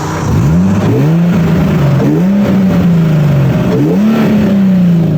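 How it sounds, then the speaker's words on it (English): A 2007 Nissan 350Z engine revs hard after an idle reset, loud and close, rising and falling through three strong throttle blips with a prominent intake roar. "intake sounds crazy."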